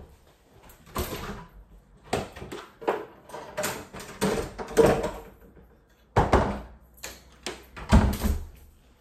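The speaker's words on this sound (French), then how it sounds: "Attendez, je vais plutôt aller fermer les volets." Window shutters being closed at home: a series of wooden knocks, slides and clunks, with a brief pause before a final cluster of louder thumps as they latch.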